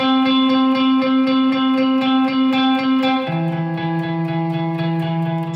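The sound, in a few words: electric guitar played with too much reverb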